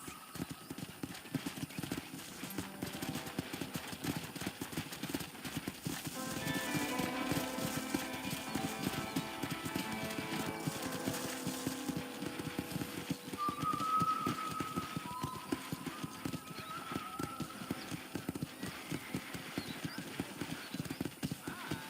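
A horse in the video game Red Dead Redemption trots on a ranch, giving steady rhythmic hoof clip-clops with a neigh partway through, beneath game music and occasional spoken dialogue.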